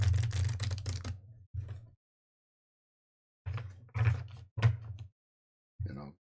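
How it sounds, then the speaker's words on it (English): Game cards shuffled in quick bursts: a long riffling clatter, a short pause, another brief shuffle, then after a gap a run of several close, crisp riffles and a final short one, with no talking. "let me just shuffle these real quick."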